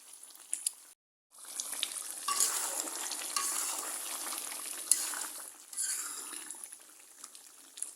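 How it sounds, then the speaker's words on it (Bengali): Beef and potato curry sautés in a pot, a spoon stirring and scraping through a steady close sizzle after a brief pause near the start, with no voices. "আস্তে আস্তে কষতে থাক।"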